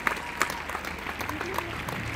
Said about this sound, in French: Mesdames et messieurs, vos applaudissements pour Romantic Love